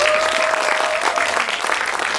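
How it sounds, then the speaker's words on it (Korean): An audience at a talk breaks into steady, close applause, a dense even wash of clapping that holds throughout the short stretch without voices. "박수 한번 부탁드리겠습니다."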